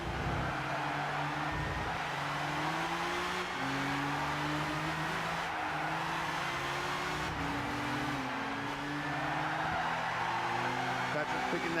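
Nissan 370Z race cars lap Silverstone in the game Gran Turismo 6, several engines droning and shifting pitch as they rev through gears, a steady mechanical roar under commentators talking.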